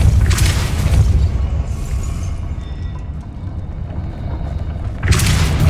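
A Depulso spell cast in the Hogwarts Legacy video game lands as a loud, sustained deep boom with a rumbling whoosh, swelling again at the end, close and heavy with no talking over it.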